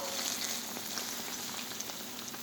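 Sliced plantain frying in a pan of hot oil, a steady close sizzle with scattered small pops and crackles running evenly throughout, no voices.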